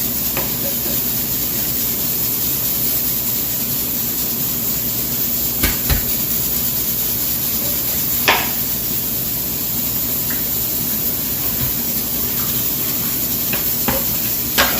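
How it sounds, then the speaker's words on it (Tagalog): A steady high-pitched hiss of steam runs continuously under a low hum, broken by a few faint clicks and taps. "tapos yung ingay ng pressure cooker"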